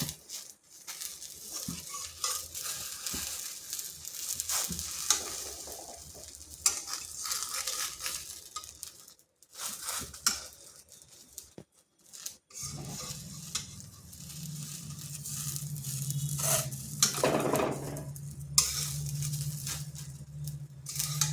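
Potato tikki sizzle steadily in a hot pan while a spatula scrapes, presses and turns them, with repeated close metallic taps over continuous frying hiss.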